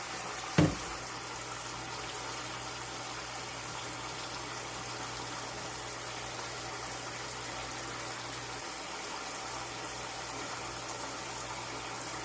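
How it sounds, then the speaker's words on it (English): Water runs steadily into a bundt baking pan for an amarillo flan, a continuous soft rushing that holds level for about twelve seconds after a brief knock at the start. "fill this pan until we get halfway up"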